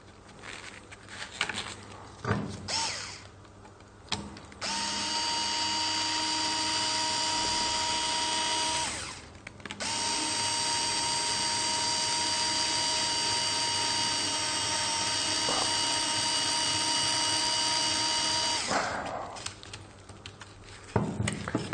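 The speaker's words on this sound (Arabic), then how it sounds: "الناحيه الثانيه هتعمل خرم" A power drill bores a hole in a workshop project, with two long steady whining runs of about five and nine seconds separated by a short pause, near and loud, with handling knocks before and after.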